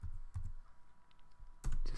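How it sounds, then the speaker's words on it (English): A web address being typed on a computer keyboard: a few scattered key clicks and a heavier keystroke near the end, close by, with no voice. "type in ASQ.org."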